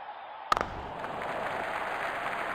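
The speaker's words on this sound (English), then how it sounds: "Crowd going mad here." Crowd at a cricket match between India and Australia cheering after a six: a sharp burst of noise, then a steady, fairly loud roar of applause and crowd sound carrying on to the end.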